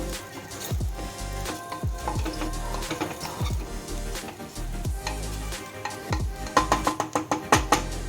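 Pulao rice frying in a pan, nearly done before water is added: a steady sizzle with repeated stirring scrapes and clinks in an irregular rhythm, growing sharper and denser toward the end.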